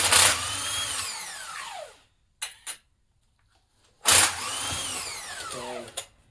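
A power drill-driver backs out long bolts from the clutch side cover of a Yamaha Big Bear 350 ATV, with two loud whirring bursts of about two seconds each, separated by short clicks and near-silence.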